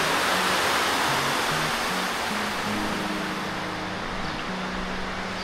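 A large waterfall at the end of a roughly 20-minute hike gives a loud, steady, broadband roar that runs unbroken and close, with a faint low hum beneath it.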